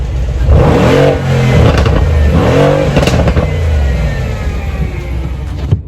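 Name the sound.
car exhaust revving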